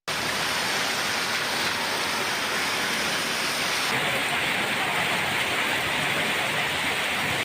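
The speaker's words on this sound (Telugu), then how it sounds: "మహబూబాబాద్ జిల్లా వ్యాప్తంగా ఈదురు గాలులు, ఉరుములు, మెరుపులతో కూడిన భారీ వర్షం కురిసింది" Heavy rain pours down in a steady, dense, loud hiss across Mahabubabad district during a storm with gusty winds and thunder, unbroken throughout.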